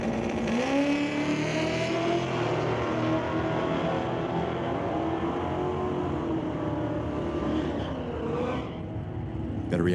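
Drag racing launch of a 1991 Ford Mustang and a Chevrolet S10 at a racetrack near Chilliwack, with loud, continuous engine roar that rises in pitch, joined by what may be a voice over the noise.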